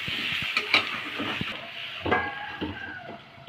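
Boiled elephant foot yam and potato frying in a pan, with a soft close sizzle under repeated clinks and scrapes of a utensil against the pan.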